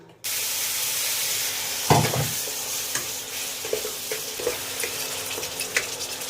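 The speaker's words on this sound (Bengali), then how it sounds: "মশলাটা কিছুক্ষণ কষাবো।" Salt, turmeric, coriander, cumin and chili powder sauté in a pan with a loud, continuous sizzle, broken by a few stirring scrapes and knocks.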